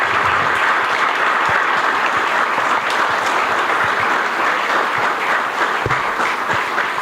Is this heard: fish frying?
no